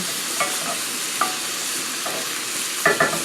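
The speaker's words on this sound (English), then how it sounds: "So, like this side, no, it's already brown, so I just flipped it over. try and get that side nice and seared." Browned food searing in a pan just after being flipped, a steady soft sizzle with a few faint clicks and scrapes of a utensil, close-miked and without talking.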